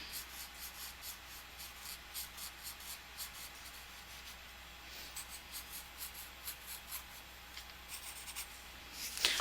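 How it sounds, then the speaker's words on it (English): A pencil shades back and forth on paper in a soft, steady rhythmic scratching, close and quiet, with no voice over it. "I'm just kind of bringing my pencil back and forth,"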